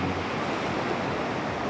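Surf at Lhoknga beach near Banda Aceh makes a steady, close roar of breaking waves, an even broadband rush with some wind buffeting and no voices.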